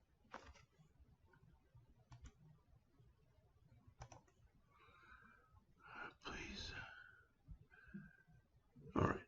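Fingers type on a computer keyboard in short, quiet bursts of clicking keys, separated by pauses, with a person talking in between.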